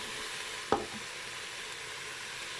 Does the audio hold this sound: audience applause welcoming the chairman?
no